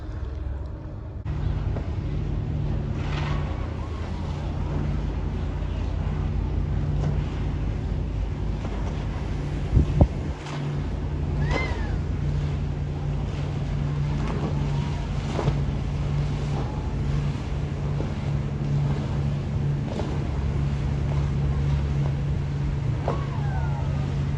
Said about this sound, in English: The tender boats are getting all set up, ready to take passengers of the ship over to Cozumel